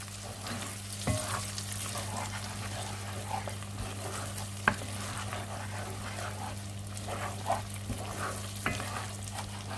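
Food melting and frying in a saucepan while being stirred, a soft, steady sizzle with a low hum underneath and a few sharp clinks of the utensil against the pan.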